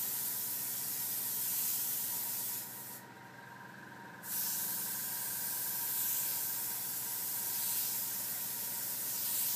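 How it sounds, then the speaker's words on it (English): An airbrush sprays thinned AutoAir paint as a steady, close, continuous hiss. It runs alone for almost the whole stretch, with one brief drop in the middle before the spray picks back up. "just keep the airbrush moving"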